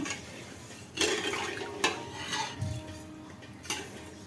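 A spoon stirs sugar and water in a metal pot as rasgulla syrup dissolves, giving a few distinct clinks and scrapes against the pot over a low background.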